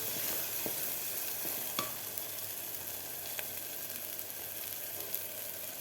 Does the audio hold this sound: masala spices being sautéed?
yes